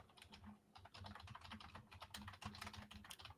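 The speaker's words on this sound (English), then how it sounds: "Do you hear me typing?" Rapid computer keyboard typing, a steady stream of close, crisp key clicks with no talking.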